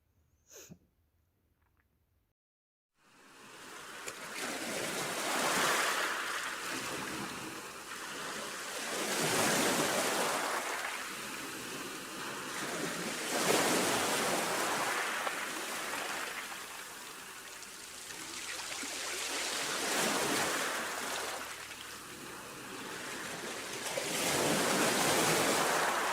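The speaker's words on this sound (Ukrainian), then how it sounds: "Так, це шум моря." Gentle sea waves roll in and recede slowly, each swell rising and fading in a calm, steady rhythm after a brief quiet start.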